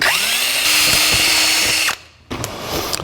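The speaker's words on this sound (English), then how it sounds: "make a punch mark for the switch and drill a pilot hole, making sure there's no wires underneath." A power drill bores a pilot hole into a panel of a 1949 Chevrolet gasser, running loud and steady with a rising whine, then cutting out briefly before starting up again.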